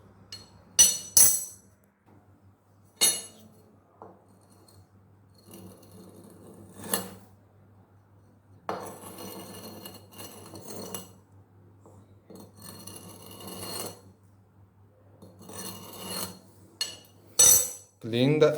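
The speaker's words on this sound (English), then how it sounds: "The excess soil sample in the mold will be trimmed with the help of straight edge." A metal straight edge scrapes and clinks against a mold while excess soil is trimmed off, giving irregular sharp metallic taps and gritty scraping in a quiet room with a faint steady hum.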